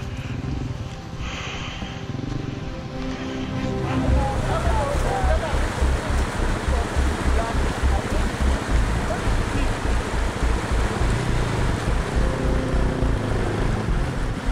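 Rushing river water churns and splashes steadily during a river crossing, with wind buffeting the microphone and an engine-like rumble growing louder partway through.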